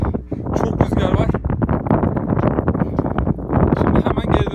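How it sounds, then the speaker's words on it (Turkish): Strong wind buffets the microphone at a dam reservoir during a mountain bike ride, a loud, gusty rumble that carries on throughout while someone speaks over it. "Ama çok rüzgar var."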